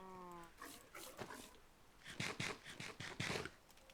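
Dog whimpering in the Minecraft survival game: a short run of high, thin whines opens the clip, followed by a series of soft yips and clicks spread across the rest, near and moderately loud with no talk.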